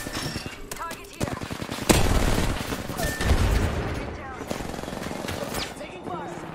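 Bursts of rapid automatic gunfire in Apex Legends, loud close shots mixed with quieter distant fire and a sharp blast, while an in-game voice calls out.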